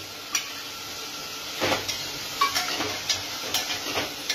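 Marinated paneer cubes frying in a pan for dhaba-style paneer masala, giving a low steady sizzle broken by several sharp clinks and scrapes of a utensil against the pan.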